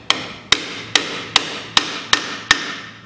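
Steel hammer blows drive a wheel bearing into the hub of a Land Rover Defender, seven sharp metallic strikes in an even, steady rhythm, close and ringing, with no talk.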